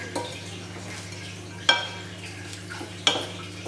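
Salad of rocket and continental parsley being tossed in a bowl, with soft rustling and stirring plus two sharp utensil clinks against the bowl over a steady low background hum.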